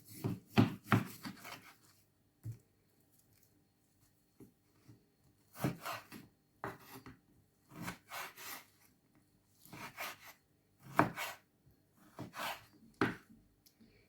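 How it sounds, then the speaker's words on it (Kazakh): Fatty meat chopped with a knife on a board, a quiet series of irregular close chops and scrapes in short bursts separated by pauses. "Бірінші етті турап аламыз"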